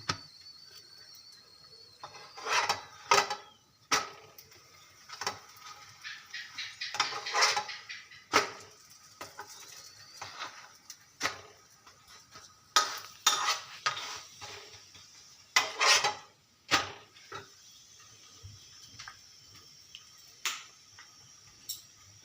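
Paratha fries in a pan over a home stove, with a faint sizzle under a series of sharp, irregular spatula clinks and scrapes against the metal. The sounds come in close bursts separated by quiet gaps.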